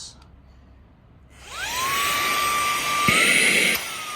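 A small motor in a Hoto portable electric air duster spins up into a loud, steady high-pitched whine that holds for a couple of seconds and rises slightly near the end.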